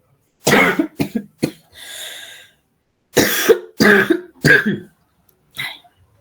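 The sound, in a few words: cough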